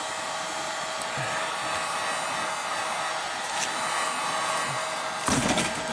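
A hot air tool used to melt plastic on a Nissan Maxima, a steady loud blowing hiss lasting throughout, with a brief louder burst near the end.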